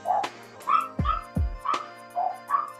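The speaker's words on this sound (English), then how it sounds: "my dogs are barking. Why are they barking?" A dog yaps and whimpers in a quick, uneven series of short, high barks mixed with deeper thumps, close by and fairly quiet, with no one talking.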